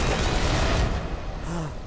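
Gunfire from Raynor's weapon in the StarCraft 2 campaign, a dense burst of shots roaring loud and continuous across the whole moment amid game effects.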